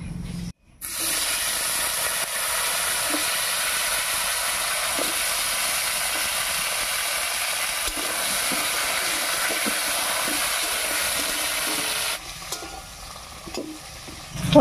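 Cut potato pieces sizzle in hot oil tempered with dried chilli, cumin and bay leaf, a loud continuous hissing fry close by with faint scraping stirs, easing off near the end.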